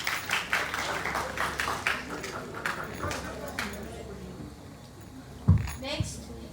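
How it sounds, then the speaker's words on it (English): At an English department freshers party, an indoor audience claps in a quick run of hand slaps that gradually thins out, followed by a single sharp knock near the end. "All right, clap for Isha."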